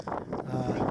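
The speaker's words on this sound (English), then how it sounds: "Of course, it's a windy day." Gusty wind buffets the microphone on a winter day in Key West, low rumbling bursts that rise and fall close and loud, with no talk.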